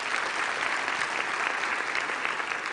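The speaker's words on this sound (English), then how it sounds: "Can you please give another round of applause to our choir?" A graduation ceremony audience in a university hall applauds the choir after its performance, a steady, full wash of clapping that sounds somewhat distant and continues evenly throughout.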